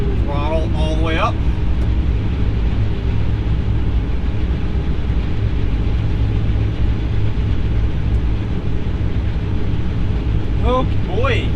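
A combine harvester engine runs at full throttle while slugging a crop, a loud, steady, unbroken drone through the whole stretch, with brief voices near the start and end.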